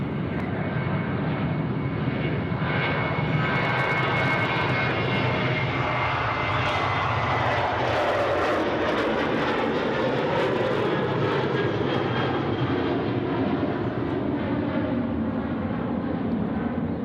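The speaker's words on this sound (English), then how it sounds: "Qantas 504 now off to Brisbane, the 737-800 next to go" A Qantas Boeing 737-800 jet departs Sydney Airport bound for Brisbane, its engines producing a loud, continuous roar that holds steady throughout.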